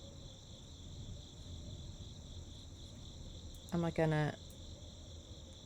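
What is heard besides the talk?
crickets chirping in the video game The Darkside Detective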